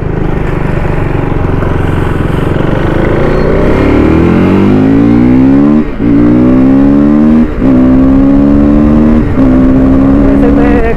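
Triumph Daytona sport motorcycle ridden on the road: the loud engine revs up in rising sweeps, with brief dips at each gear shift followed by climbing again, heard close with wind noise.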